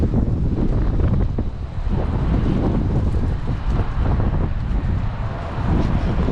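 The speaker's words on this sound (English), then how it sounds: "Man, this wind is crazy today," Strong wind buffets the microphone in continuous loud, rough gusts of roaring noise beside a hotshot truck, with no clear voices.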